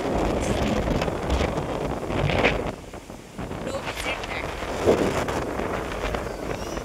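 Strong wind at Alibag Beach roars and buffets the microphone in continuous gusts, with a dip midway before it rushes back; brief faint voices blend into the noise.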